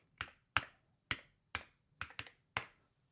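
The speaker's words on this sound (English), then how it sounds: "My keyboard is so loud." A loud computer keyboard typed in sharp, separate key strikes, about eight clicks spaced irregularly over a few seconds, close and clear with no voices.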